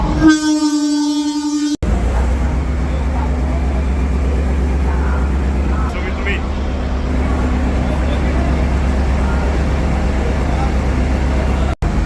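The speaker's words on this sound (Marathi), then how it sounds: "आज रेल्वे जाती हुई" A train horn sounds briefly at the start, then a heavy train rumbles past close by, a loud continuous roar of wheels and engine.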